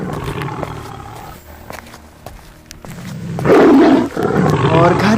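A cartoon lion lets out a loud, rough roar that swells in the second half, preceded by quieter rumbling growls and scuffling movement.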